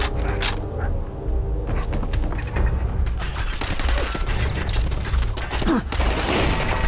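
Repeated gunfire bursts in Fallout 4 VR, loud volleys of shots and thumps following one another in quick succession across the whole stretch, with occasional mechanical clicks between them.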